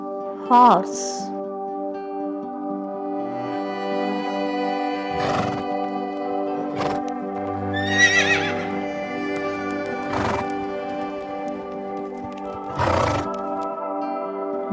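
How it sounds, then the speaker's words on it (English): A horse neighs in a few brief, shrill whinnies spread across the stretch, with a deeper snort-like sound in the middle, fairly close over a steady background tone. "horse,"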